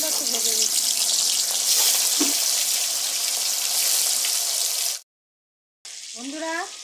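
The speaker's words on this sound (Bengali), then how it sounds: "এবার আমি মাংসগুলো একটু ভেজে নিচ্ছি।" Meat sizzles in a pan of hot oil for biryani with a steady, loud hiss. The sound cuts off suddenly, and a voice speaks briefly afterward.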